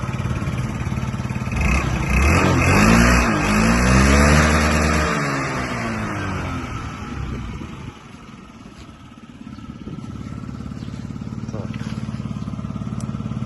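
A fuel-injected Yamaha Jog SA39 scooter engine runs at close range, rising to a louder revving burst in the first half before dropping back to a steady idle.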